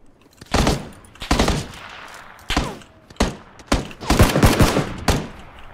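Repeated bursts of automatic rifle fire in PlayerUnknown's Battlegrounds, loud sharp volleys in several clusters with brief gaps, the later bursts rapid and dense.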